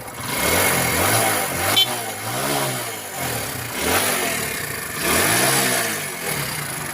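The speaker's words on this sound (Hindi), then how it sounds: "अब मैं एक्सीलेटर दे के देखता हूँ" An engine with a misfiring fault revs up and down several times as the accelerator is pressed, rising and falling in loud waves over a steady running drone with no talking.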